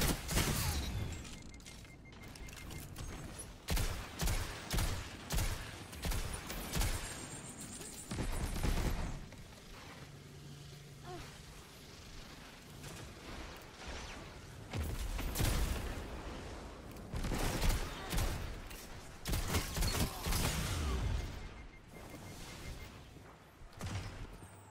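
Rapid machine gun fire from a heavy weapon in a Destiny 2 competitive match, coming in several loud bursts of varying length with brief pauses and quieter game sounds between them.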